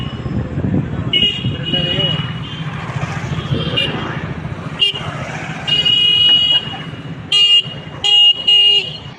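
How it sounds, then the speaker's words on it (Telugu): Car horns honking repeatedly behind a stalled motorbike in road traffic, several short loud toots and beeps near the end, over engine and traffic noise with someone talking. "నా వెనకాల వచ్చేవాళ్ళు హార్న్ కొడుతూనే ఉన్నారు."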